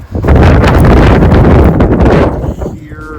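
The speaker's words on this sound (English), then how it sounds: "It's very windy." Strong wind on the Pacific Crest Trail between Tehachapi and Kennedy Meadows South buffets the microphone in a loud, roaring rush that lasts a few seconds before easing off.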